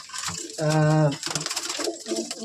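Male Andhra (Madrasi) pigeons of an old bloodline coo in a cramped loft, a strong drawn-out harmonic coo rising over softer overlapping calls and scattered background noise.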